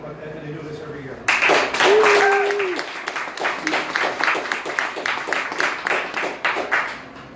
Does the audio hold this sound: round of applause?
yes